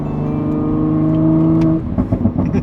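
A Toyota Supra with an aftermarket exhaust, heard up close as a loud, steady, deep droning rev that holds its pitch and then drops off into a rumbling idle with uneven burbles.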